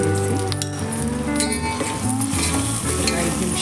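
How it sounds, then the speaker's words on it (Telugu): Vegetables and chillies frying in a pan for biryani give a steady, close sizzle with occasional clinks of stirring, and a background hum runs throughout. "ఇవి 5 నిమిషాల్లో వేగిపోతాయి"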